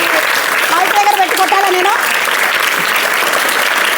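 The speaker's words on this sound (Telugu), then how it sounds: "ఆవిడ కూడా ఒకసారి అందరూ గట్టిగా చప్పట్లు ఇవ్వండి." An audience at a school annual day celebration claps loudly and continuously, dense steady applause filling the hall throughout.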